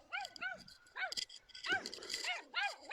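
A dog yipping and barking in short excited bursts, close and fairly faint, mixed with other high whimpering calls and a voice talking in between.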